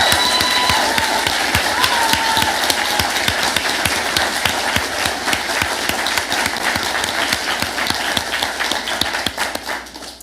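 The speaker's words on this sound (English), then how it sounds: "let's give her a round of applause right now" A graduation ceremony audience applauds steadily with dense, continuous clapping from a large crowd, loud and sustained, tapering off at the end.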